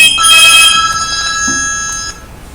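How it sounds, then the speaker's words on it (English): An office telephone rings loudly and close by in a short electronic burst, then its tone lingers and fades before cutting off, with no talking over it. "I just have to answer this phone."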